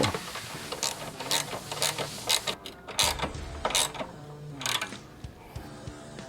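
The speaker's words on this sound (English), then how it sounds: "Now let's tighten down our chain tensioner. Here I'm using a 13 and a 12 mil." Wrenches, a 13 mm and a 12 mm, tighten the chain tensioner on a Maverick 98 mini bike kit, making close, irregular metallic clicks and ratcheting bursts with short quiet gaps between turns.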